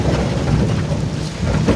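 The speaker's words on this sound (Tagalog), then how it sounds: "Nabutan kami ng ulan" Heavy rain roars steadily close by, a dense low rumbling wash with no voices.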